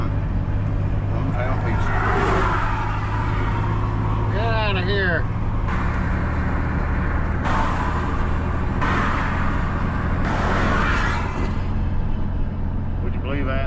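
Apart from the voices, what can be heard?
pickup truck engine running while driving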